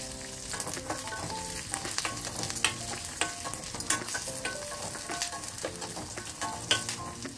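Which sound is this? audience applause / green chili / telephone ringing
green chili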